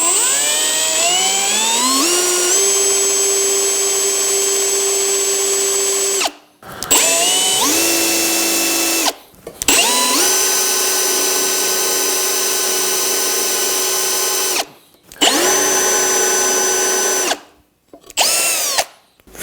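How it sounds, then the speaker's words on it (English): A power drill bores a straight hole, guided by a square, in several loud close bursts. The motor whines up to speed and cuts off between runs. "begin to make a drill, you can go right down and just follow that square and you should make a perfectly straight hole"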